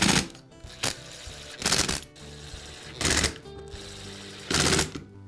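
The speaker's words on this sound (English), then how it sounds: "Now replace the clamshell half and secure it with the screws." A power screwdriver drives screws into the plastic clamshell housing of a DeWALT hammer drill, four separate whirring bursts of a second or less each, separated by quieter pauses, close and fairly loud.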